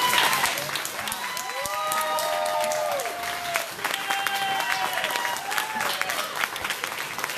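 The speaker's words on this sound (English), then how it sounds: "Let's give a one round of applause to all the candidates who came tonight" Audience applause for mayoral candidates at the close of a city candidate forum in Arlington, Texas, sustained clapping from a crowd, steady throughout with voices mixed in.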